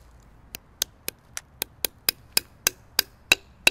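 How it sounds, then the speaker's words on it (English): A hammer drives a metal sap tap into a maple tree, about a dozen sharp, evenly spaced knocks that get gradually louder and brighter as the spout seats. "Now we're gonna set a tap."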